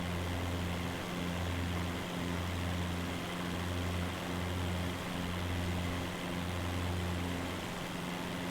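A propeller plane drones steadily throughout with a pulsing, throbbing engine hum, loud and constant as if heard from inside or close by, with no talk.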